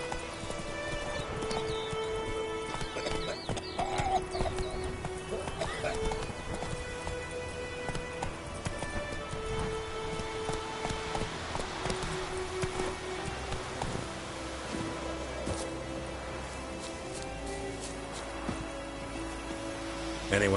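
Steady clip-clop of horse hooves as Geralt rides in The Witcher 3, a continuous trotting rhythm running throughout alongside a faint whinny and in-game background sound.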